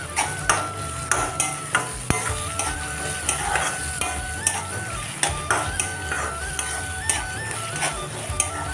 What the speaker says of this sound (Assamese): এতিয়া পিঁয়াজখিনি অকণমান মিহলি হৈ যাওক তেলৰ সৈতে